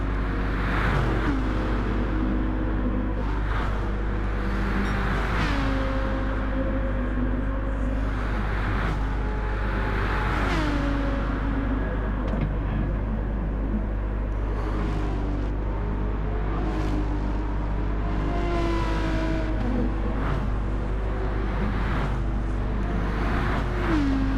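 A race car engine in Gran Turismo 7 during a Bathurst one-hour enduro, droning and revving up and down continuously through gear changes, with loud sustained engine tone and rising pitch sweeps.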